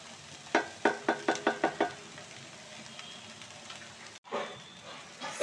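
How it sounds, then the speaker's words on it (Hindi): Radish leaves for mooli bhujiya sautéed on a slow flame: about seven quick, evenly spaced stirring scrapes over a soft, steady sizzle, then a brief break and a denser hiss of frying. No one speaks. "अब हमें इसे भूनना है गैस, स्लो फ्लेम पे ये कुकिंग प्रोसेस रहेगा आपका"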